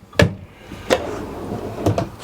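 A solid wood drawer on full-extension slides in a 2020 Northwood Arctic Silver Fox 29L travel trailer, moved by hand: three separate sharp knocks and thuds, close by, with quiet gaps between them.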